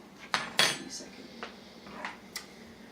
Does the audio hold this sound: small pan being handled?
yes